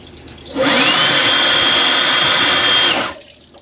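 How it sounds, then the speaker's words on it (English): Electric blower forcing air through the drain of a Jayco caravan: a loud, steady rushing whoosh with a thin high whine that starts abruptly, holds for about two and a half seconds, then cuts off. "if I give it a bit of a blow with the old blower"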